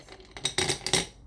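Stones clink and knock together inside a pot as it is shifted by hand, a quick cluster of bright, close clattering taps spread over about a second.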